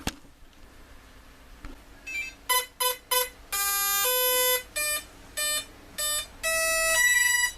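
A run of electronic beeps from two RC model speed controllers initializing, short tones then a longer one, then several more in a patterned sequence, clear and close over a low background hum.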